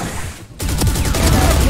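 Video game gunfire erupts after a brief dip: a loud, close burst of rapid shots with booming reverberant tails fills the short moment, without any talking.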